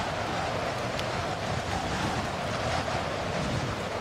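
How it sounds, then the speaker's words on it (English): Steady roar of wind and surf crashing on a shore, loud and continuous throughout with no pauses or voices. "With the wind and the waves crashing up against the shore, spraying water everywhere"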